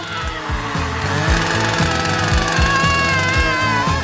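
A loud, steady mechanical grinding drone with a rapid, repetitive pounding rhythm throughout, like a power saw cutting through material up close.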